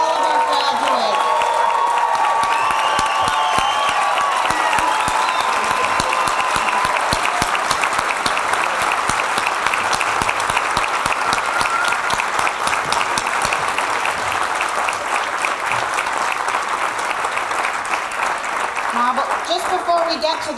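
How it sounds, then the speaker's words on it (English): An audience applauds graduates at the 2014 Champlain College hooding and commencement ceremony, dense steady clapping with some cheering that holds for around twenty seconds and tapers near the end. "big round of applause for all of our graduates"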